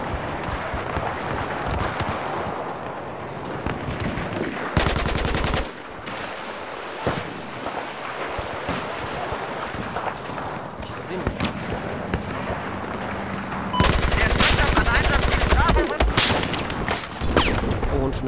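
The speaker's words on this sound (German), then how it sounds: "Natürlich baller ich wieder mein ganzes Magazin drauf und er steht noch." Automatic gunfire from an entire magazine being emptied in Battlefield 4, loud dense bursts in two stretches, near and harsh, with other action noise between them.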